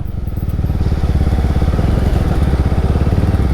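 A motorcycle engine runs steadily up close, a loud rapid chugging putter that holds throughout.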